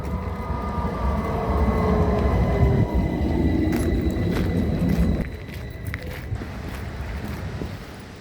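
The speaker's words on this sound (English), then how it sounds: "it's a short train ride and then a little bit of walk" A train ride, with continuous rumbling and rolling noise from the carriage, a fading whine early on, and a few faint clicks and steps later as the noise eases, heard in Stockholm.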